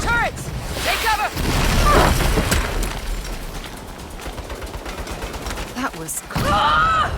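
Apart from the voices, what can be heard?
turret gunfire in Saints Row video game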